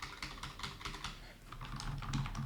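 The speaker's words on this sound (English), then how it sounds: "Another thing I forgot to mention about this keyboard is as I was typing on it, it is super soft" Typing on a soft, budget computer keyboard, a quick run of muted, close keystrokes with an uneven rhythm.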